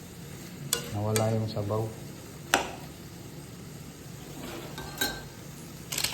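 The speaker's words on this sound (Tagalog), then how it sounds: "So, mekos-mekos lang natin. Para kumalat yung itlog." Bitter gourd and egg sizzle in a frying pan, with a soft, steady hiss broken by a few sharp scrapes and clinks of a utensil stirring against the pan, and someone speaking briefly.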